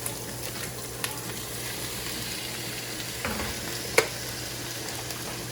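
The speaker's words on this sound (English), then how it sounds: "I'm just gonna throw the shrimp in with it and season all of this stuff together" Shrimp and chopped veggies sizzle and get stirred in a hot pan with seasoning, a steady quiet frying hiss broken by a few light clicks and one sharper knock of a utensil.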